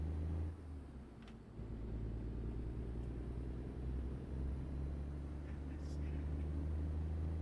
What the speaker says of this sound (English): this truck doesn't sound too bad